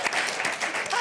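Audience applause at a Davos panel discussion on gender and economic growth, a steady wash of many hands clapping filling the whole moment without any talk.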